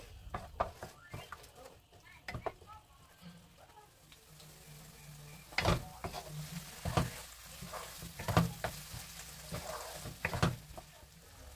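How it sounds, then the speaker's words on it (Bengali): Eggs frying with tomato in a pan for noodles: a soft sizzle with intermittent clatter and stirring scrapes that grow louder in the second half, with no voices. "সো টমেটোটা আমার ফ্রাই হওয়ার পর আমি ডিমটা একটু ভালো মতো ভেজে নেব।"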